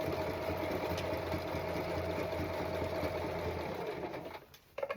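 Sewing machine stitching black striped pants, a steady close mechanical whirring hum with rapid needle rhythm running continuously before stopping abruptly near the end.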